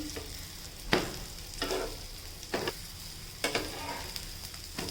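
Egg cutlets sizzle in oil in a pan as they are turned, with a soft continuous fry broken by several sharp scraping, stirring bursts of the spatula at irregular intervals.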